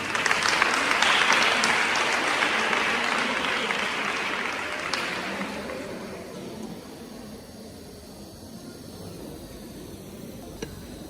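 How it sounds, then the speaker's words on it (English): A hall of people claps for an adolescent health coordinator at a polyclinic's World Menstrual Hygiene Day event, loud and dense at first, then thinning and fading out over several seconds. "Please give her a hand of applause."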